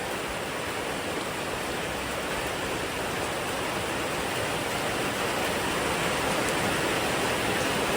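A dense, even hiss of rain falls outdoors after a night of rainfall in a Thai village, steady and unbroken throughout with no voices.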